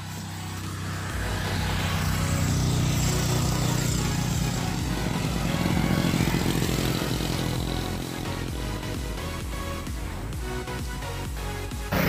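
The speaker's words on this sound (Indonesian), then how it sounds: "Ya, kendaraan bermotor aja" Steady engine drone of a motor vehicle on a road through a highland mining and oil-palm plantation area, a close, continuous rumble holding for most of the stretch with no talk.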